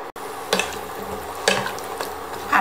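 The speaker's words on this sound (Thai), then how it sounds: "ผัดให้เข้ากันนะคะ" Pumpkin pieces are stirred in a hot pan after water has been added, with a steady sizzle and bubbling throughout. Louder scraping sweeps of the utensil come at regular intervals, with no talking.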